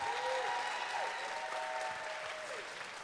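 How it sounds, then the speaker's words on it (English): Steady audience applause at an evening awards presentation for a ballroom dance event, a dense, even clapping from a crowd that carries on without a break and fades slightly toward the end. "Let's give a big round of applause to the organizing committee that Joe leads."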